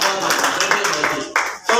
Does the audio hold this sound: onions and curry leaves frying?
no